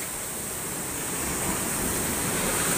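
Rising floodwater during a typhoon, a steady broad rushing wash of water that holds at a constant loud level with no break or voices.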